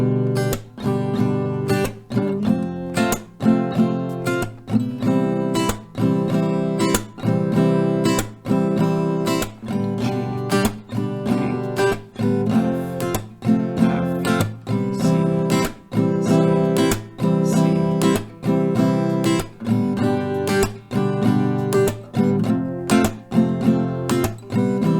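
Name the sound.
acoustic guitar strumming chord progression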